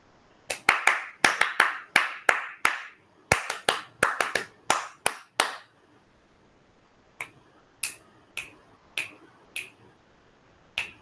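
Sharp, close hand claps and finger snaps in a quiet room: a rapid run of about fifteen strokes, a pause, then seven evenly spaced snaps, with no talking.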